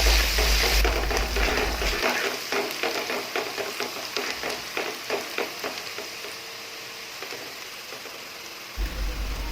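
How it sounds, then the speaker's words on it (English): Finely chopped onions with salt sautéing in hot oil over medium heat, a steady close sizzle with crackling pops and occasional stirring scrapes throughout, no voices. "Once oil is hot, add finely chopped onions, add salt to taste, and saute until they turn golden brown"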